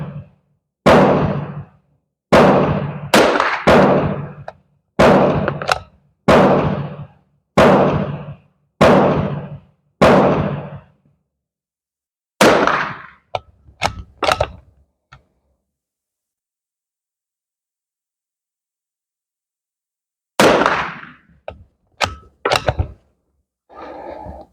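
A Beretta Olympia rifle fires at a target. About a dozen sharp cracks come in a fairly regular run, each with a short ringing tail, then a long quiet gap before a few more shots.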